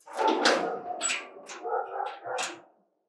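A dog gives a string of short, high barks and whimpering yelps in quick succession, close and alone, fading out at the end.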